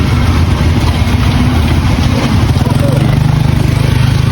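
A tuk-tuk engine idles loudly and close in Laos, a steady low rumbling putter with a quick rhythmic chug that firms up in the second half, under faint background noise.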